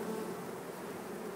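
A dense, continuous drone of many honey bees buzzing around a hive, steady and close, with no other sounds.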